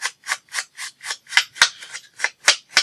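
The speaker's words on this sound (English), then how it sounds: "what is going on with my fingernails. I need to cut them." Fingernails are clipped one after another, a quick row of about a dozen crisp, close clicks in a steady rhythm, alone without speech.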